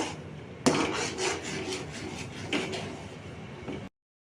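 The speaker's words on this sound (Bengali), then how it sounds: "কিন্তু এটাকে নাড়তে থাকতে হবে, নইলে নিচে লেগে যাবে।" A spoon scrapes and stirs thickening khoya kheer with cardamom in a pan, making soft, rasping strokes in an uneven rhythm, close and fairly quiet, with one sharper knock early on.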